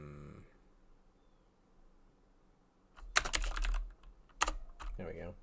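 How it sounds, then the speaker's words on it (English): Keys clatter on a computer keyboard during C# game-development coding, in quick close bursts with a brief pause between them, over a quiet background. "Should have just kept typing."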